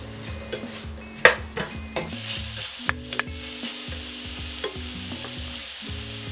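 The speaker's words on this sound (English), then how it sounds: "The onions are gonna cook in the meat juices, which is an added bonus" Onions frying in meat juices in a pan for Japanese nikujaga stew, a steady sizzle with repeated stirring scrapes and occasional sharp utensil clicks, close and fairly loud, with no talking.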